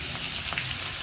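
A soft, continuous crackling hiss of green chilies and garlic paste frying in oil, steady and fairly quiet throughout.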